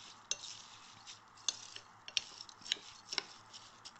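Sugar mixture being stirred in a pan for sago and dry fruit laddoos, with a spoon scraping and clinking against the metal at irregular intervals over a soft steady background hiss.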